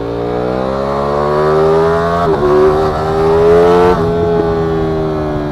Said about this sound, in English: Let's get a quick sound clip of this righteous motorcycle.